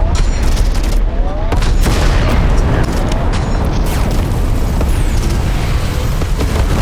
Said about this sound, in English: And the railgun is just awesome.